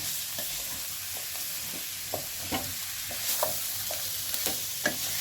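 Broad beans fry in a covered pan with a continuous soft sizzle, broken by repeated scraping stirs every half second or so, close and moderately loud.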